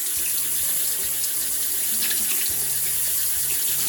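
Hot water runs from a tap over a beauty blender sponge in a sink, a steady close splashing stream with a low hum beneath, continuous and without talk.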